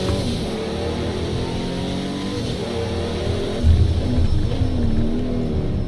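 A race car engine revs hard under a heavy throttle foot, the pitch climbing and dropping in steady sweeps as it drives on alone, with a louder surge late on.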